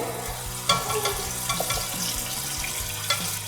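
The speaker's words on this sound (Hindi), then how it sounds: "फिर हम इसमें डालेंगे मैरिनेटेड चिकन" Marinated chicken going into a pot of cooked-down tomatoes for Sindhi biryani, sizzling and frying steadily at close range with stirring clatter and a few sharper knocks, no talk.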